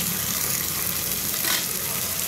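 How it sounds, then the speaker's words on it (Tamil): Two large onions sauté in hot oil in a pan, a loud, steady, close sizzle that goes on without a break. "இந்த பெரிய வெங்காயத்தை கொஞ்சமாக வதக்கிக்கலாம்"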